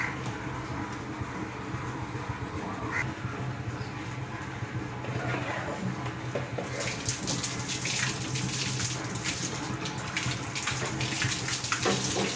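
Water runs in a continuous loud gush as a sheep is bathed and soaked on a sheep farm before shearing, steady and close throughout with rougher splashing in the second half.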